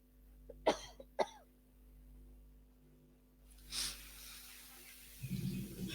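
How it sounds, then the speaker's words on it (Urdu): A speaker suffering a coughing fit during a religious lecture on prayer supplications gives two sharp, close coughs in quick succession, then falls into a long, quiet stretch with only faint breathing and a soft rustle near the end. "مجھے کھانسی کا دورہ پڑا ہوا ہے"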